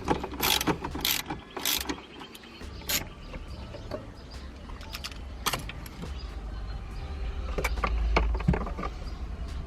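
Ratchet wrench clicking as it backs out 10mm bolts from the dash of a 2019 Subaru WRX, with bursts of sharp metallic ratcheting and tool rattles, close and alone.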